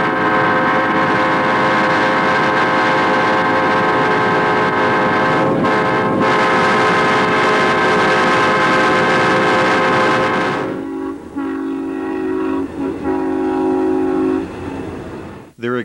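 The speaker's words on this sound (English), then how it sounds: "the Southern and other railways began installing chime horns of all kinds" A diesel locomotive's chime horn blares in one long, loud, sustained multi-tone blast that cuts off, followed by a shorter softer horn tone and fading rumble.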